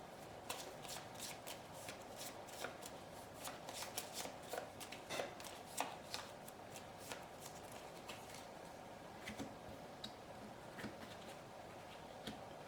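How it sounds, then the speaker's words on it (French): Board game tiles being reshuffled in a draw pile, giving a steady soft rustle of shuffling with scattered light clicks and taps, close but quiet throughout. "je vais remélanger la pioche"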